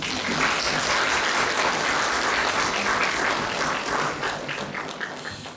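Dense, steady applause from an audience at a policy forum on helping preschool children with developmental disabilities or delays adjust to school, loud and continuous before tapering slightly near the end.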